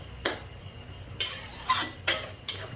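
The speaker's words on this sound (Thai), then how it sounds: "การจะเอาหมูลงไปผัดกับพริกแกงนะคะ" Pork stir-fried with curry paste in a large wok, with a spatula scraping and clinking against the pan in four or five short, close bursts over a quiet background; no one speaks.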